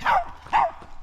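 A dog named Miles gives two sharp barks a half-second apart, fairly close, with faint footsteps and road noise during a run along a rural road.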